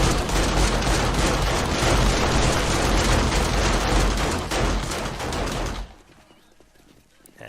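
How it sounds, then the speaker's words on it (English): Dense, continuous rapid machine-gun fire in a video game fills the first six seconds, loud and close, then cuts off, leaving quieter background rumble. "the gunfire, it really affects things"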